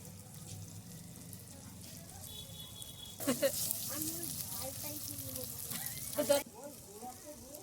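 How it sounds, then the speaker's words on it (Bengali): Chicken pieces frying and being stirred in a clay pot for a chicken ghugni, a steady sizzle with scraping bursts of stirring in the middle, while a person talks over it. "এবার আমি সুন্দর করে আগে মাংসটাকে ভালো করে কষিয়ে নেব"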